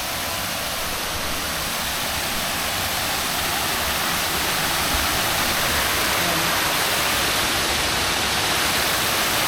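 A waterfall at a hot spring resort in Calauan, Laguna rushes with a steady, dense broadband roar that stays loud and unbroken throughout.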